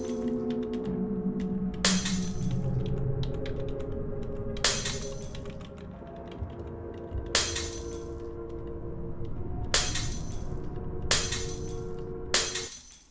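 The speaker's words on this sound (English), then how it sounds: "the icon has gone male, is seeing female, and is smashing the mirror" Mirror smashing in the video game Meditation Games: six sharp glass shatters spaced a few seconds apart, each a bright crash over a soft, steady musical backdrop, with no talking.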